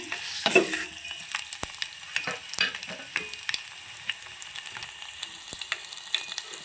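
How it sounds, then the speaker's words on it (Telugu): Tempering spices crackle and sputter in hot oil with sharp pops scattered throughout, plus a brief stirring scrape at the start; no talking. "ఇప్పుడు పోపు పెట్టుకుందాం మనం ఫస్ట్ వీటిని పెట్టుకుందాం"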